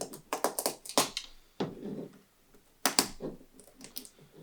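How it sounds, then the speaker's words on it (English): A box knife scratching and slicing at packing tape on a shipping box holding 3D printer parts, a series of sharp irregular scrapes and taps, close and fairly quiet with pauses between strokes. "So let's cut the tape."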